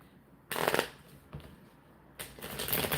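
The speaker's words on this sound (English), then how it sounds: "I'm going to shuffle these cards too as well" Oracle cards being shuffled in two loud, close riffling bursts with a quieter pause between, with no talk.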